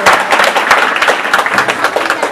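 A group of students claps in dense, steady applause at a school quiz competition for grades five to seven, with voices mixed into the clapping.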